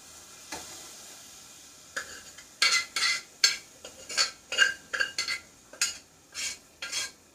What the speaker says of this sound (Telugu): ఈ ఉడకబెట్టుకున్న శనగపప్పు అనేది వేసేస్తాను